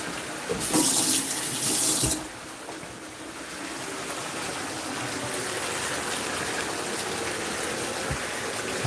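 Water gushes loudly from a kitchen tap for about a second and a half while something is rinsed off, then drops to a softer, steady running stream in a sink for the rest.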